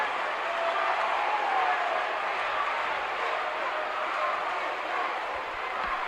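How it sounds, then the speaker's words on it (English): A large wrestling arena crowd roars steadily behind Tony Atlas, a broad, sustained wash of cheering and noise, while a commentator talks over it. "The crowd getting behind Tony Atlas, wanting him to make that tag to the Junkyard Dog."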